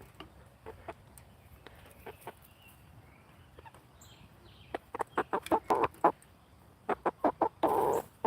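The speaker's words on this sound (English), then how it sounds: "This one chicken's just infatuated with wanting to come up here." A farm chicken clucks close by in a rapid series of short, sharp bursts that grow louder and more frequent toward the end, with no talking.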